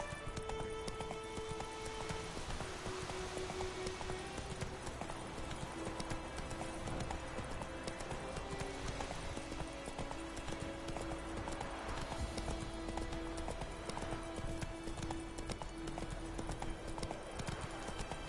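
Roach the horse gallops in The Witcher 3, rapid rhythmic clip-clop hoofbeats running steadily throughout, close and continuous, with game music and a brief whinny mixed in.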